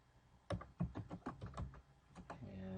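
Keys struck on a computer keyboard, a short quick run of about ten distinct clicks close by, no talk.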